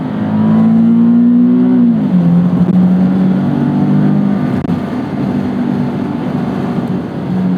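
A 2012 Nissan 370Z or 2013 Scion FR-S sports car engine drones loudly at steady revs under throttle on corner exit, dipping in pitch as throttle eases mid-way, then holding a lower hum through the rest.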